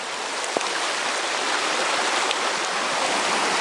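A river flows in a steady, broad rush of water, close and continuous for a few seconds, with a faint splash near the start and no talking.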